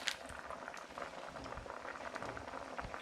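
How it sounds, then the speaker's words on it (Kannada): Onions and tomatoes simmer and bubble in a pot for a spinach curry, giving a steady close boiling and sizzling with no voices. "ಈಗ ನೋಡಿ ಎಲ್ಲ ಈರುಳ್ಳಿ ಟೊಮೆಟೊ ಎಲ್ಲ ಬೇಯ್ತಾ ಇದೆ, ಅರ್ಧ ಬೆಂದಿದೆ."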